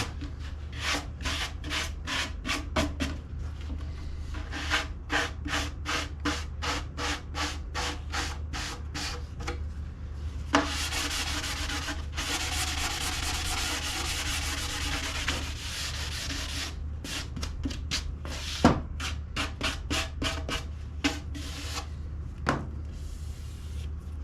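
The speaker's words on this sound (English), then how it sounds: "now I'm gonna take a nice, I think this is like 100 grit. I'm gonna, again, sand down" Hand sanding of plywood edge banding with 100-grit sandpaper, a steady run of rapid rhythmic scratchy strokes with a few longer continuous rubs in the middle, close and fairly loud with no talking.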